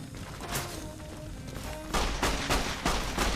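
Video game gunfire, a few sharp close shots spaced across the clip over a busy background, with the loudest cluster of bursts near the end.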